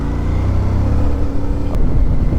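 A motorcycle engine labours steadily in 4th gear up a fair incline on a Montana backcountry route, a continuous low rumble with slight surges in pitch, close and loud throughout with no talk.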